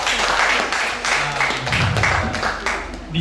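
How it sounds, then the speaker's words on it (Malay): Audience applause at an academic lecture gathering with university students, a dense steady clapping that fills the whole moment, fairly close and loud, with some voices mixed in. "Tepuk tangan dia kita semua."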